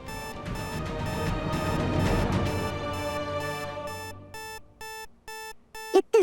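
Safe alarm rings shrilly and continuously over a noisy mix, then breaks into a series of separate repeated bursts of electronic beeping that start and stop abruptly near the end.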